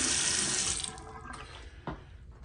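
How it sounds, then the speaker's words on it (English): Hot and cold water running from a hotel bathroom vanity faucet, a steady near stream that shuts off, followed by a small clunk of the handle. "Here at the vanity, we get hot and cold running water"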